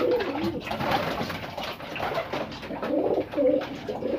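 Pigeons coo repeatedly at close range in low, throaty warbles, several birds overlapping steadily just before they are released, with no talking.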